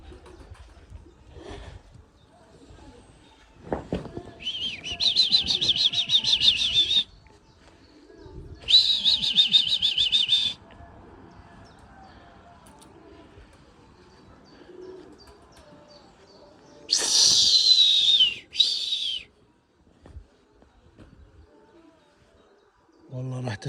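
Pigeons in a loft coo and flutter, with bursts of wing flapping and chirps rising several times over a quiet background while someone talks nearby.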